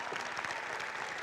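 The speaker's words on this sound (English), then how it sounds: "So please give him a big round of applause." An audience at a 2019 high school graduation ceremony gives steady, dense applause from many hands, a continuous crackling wash without a break.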